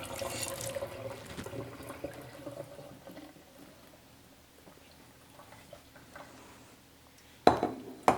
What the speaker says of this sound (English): It's time to rinse the fish cake. Be careful, water is still hot.